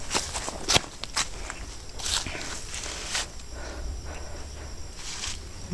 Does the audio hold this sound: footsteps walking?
yes